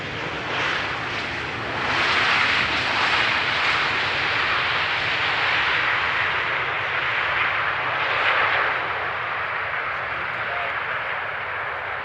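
An Emirates Airbus A380 arrives at Amsterdam Schiphol runway 18R, a broad roaring jet rumble swelling and holding steady for several seconds, heard from the ground at a distance.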